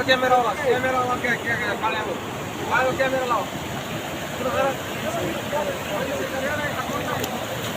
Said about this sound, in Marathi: हे पा पाण्याचा प्रवाह खतरनाक